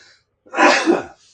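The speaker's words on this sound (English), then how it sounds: "I'm going to sneeze." A single loud sneeze bursts out close to the microphone, preceded by a brief sharp intake of breath, with near silence around it.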